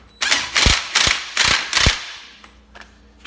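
A ratchet snugging up an axle nut on a Polaris RZR 1000 XP, giving five or six quick, close, crisp clicking bursts in an uneven rhythm, followed by a couple of fainter clicks.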